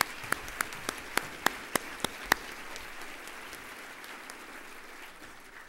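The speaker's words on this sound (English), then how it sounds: "all of these three individuals need one more big round of applause for their volunteer" A run of about eight distinct, sharp handclaps spaced roughly evenly, ringing out over a soft bed of wider applause that fades into a quiet room hiss; the clapping honours volunteers at a committee report.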